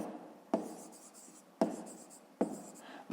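Pen writing a math answer on paper, four short scratchy strokes spaced about a second apart, close and fairly quiet with no voices.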